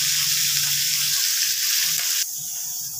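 Shingi fish frying in hot oil, a steady and loud close-up sizzle with bright crackling that continues throughout and drops slightly toward the end.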